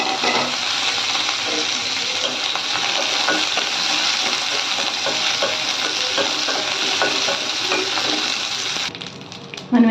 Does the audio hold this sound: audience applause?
no